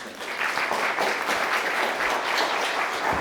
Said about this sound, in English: So if everyone could give a warm round of applause for Shannon French.